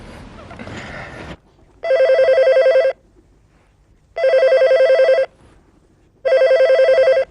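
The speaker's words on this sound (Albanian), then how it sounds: "Pse se kap telefonin qik?" A telephone rings three times in even, long electronic bursts with quiet gaps between them, following a short stretch of rustling noise at the start.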